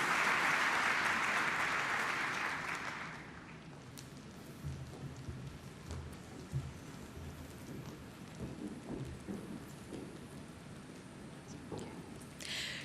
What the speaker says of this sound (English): Let us give the biggest round of applause